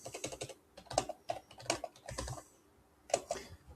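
Fingers tap out quick, irregular clusters of keystrokes on a computer keyboard, soft and close with brief pauses between bursts.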